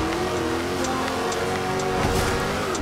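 A car engine of over 1000 horsepower climbs a hill off-road in Forza Horizon 2, holding a steady, loud drone with a slight rise in pitch as it pulls, with no talk over it.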